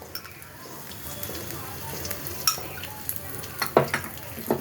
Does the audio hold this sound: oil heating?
yes